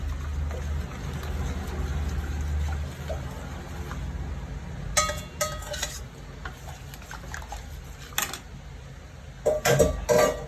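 Melted jaggery is stirred into rice batter for kalathappam, with a spoon scraping and clinking against the bowl in short bursts, close by, over a low background hum.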